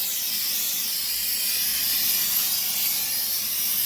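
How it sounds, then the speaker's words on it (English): An aerosol can of auto-parts-store undercoating sprays steadily onto the underside and frame of a 1983 Ford F150 truck, a continuous loud, close hiss with no pauses and no talking. "just spray it on there"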